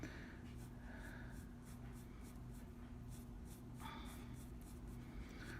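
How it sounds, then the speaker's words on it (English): A pencil marks lines on tracing paper in preparation for lino carving, giving soft scratchy strokes in short bursts over a steady low room hum, close and quiet, with no talking. "So I'm making my marks right on my tracing paper so I can see how I would like to carve it out."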